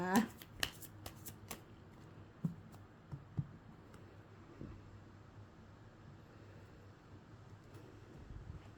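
Tarot cards being shuffled and cut, with a quick run of crisp riffling clicks at the start, then sparse taps and soft shuffling over a low steady background hum.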